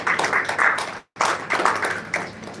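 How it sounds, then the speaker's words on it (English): An audience applauds panel speakers at a football law moot, with brisk, dense clapping that cuts out briefly before resuming just as strongly. No one speaks over it. "can we give them another round of applause?"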